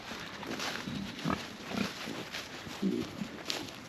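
Pigs in a farm pig pen grunting softly and intermittently over steady outdoor background noise, several short low grunts spread through the clip.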